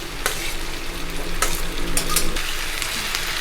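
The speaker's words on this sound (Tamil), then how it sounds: "இப்போ நம்ம ஃபைனலாக நம்ம நல்லா குக் பண்ண வெஜிடபிள்ஸை ஆட் பண்ணுறோம்." Cooked vegetables for chicken chow mein hiss and sizzle in a hot pan over a high flame, with steady loud frying and a few sharp scraping stirs of the spatula.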